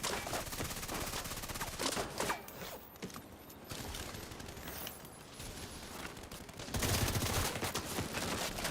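Sustained gunfire in The Division 2 fills a continuous, noisy stretch of rapid shots and mechanical clatter, swelling louder near the end, with no clear talk.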